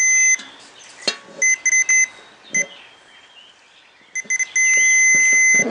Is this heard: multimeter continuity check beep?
yes